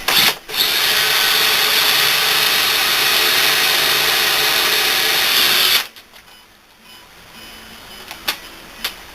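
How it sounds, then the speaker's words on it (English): A power drill bores a slightly oversized hole in wood with a loud, steady, high whine for about six seconds, then cuts off, leaving quiet room noise and a few faint knocks. "I'm drilling this hole slightly oversized so that I have room for flag."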